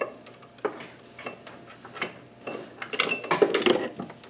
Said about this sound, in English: I dropped a bolt